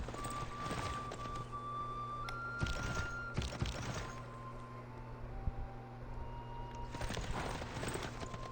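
Horse hooves clip-clop in the video game Civilization VI, a few quiet hoof beats in short bursts over a soft ambient music bed with sustained tones.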